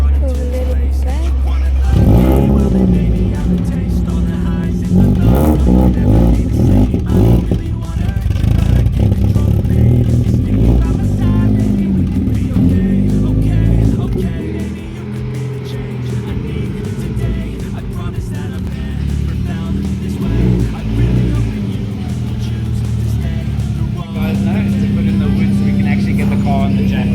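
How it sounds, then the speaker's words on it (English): A Ford Figo's engine cold-starts and settles into a steady, loud idle that rumbles throughout, with someone talking over it. "Cold start, guys."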